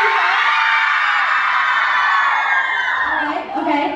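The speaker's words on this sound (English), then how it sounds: "scream for option A" A concert audience screams and whoops together in one loud, sustained roar of high-pitched voices that dips briefly near the end before surging again.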